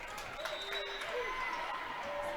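Home crowd cheering and applauding at a high school girls' volleyball state tournament match, a steady wash of claps and shouts with commentary talking over it.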